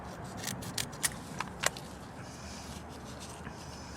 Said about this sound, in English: You have to cut the gaps.